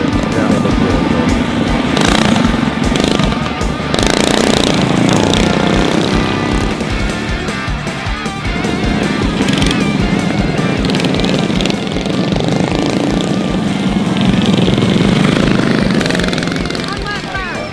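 GPS 180 race minibikes lapping a track in 2023, a continuous buzzing engine drone that rises and falls as bikes pass, with people talking nearby.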